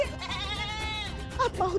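A phone ringtone of a goat bleating, a wavering nasal bleat played close and clearly, with a person's voice breaking in near the end.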